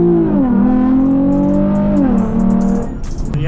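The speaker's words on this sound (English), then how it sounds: "today we are driving the Lexus to an exotic car meet at Sunset" A modified Lexus IS 350 accelerates hard, its engine note climbing through the rev range with clear gear shifts, loud and close. A brief tire or road noise rises at the end.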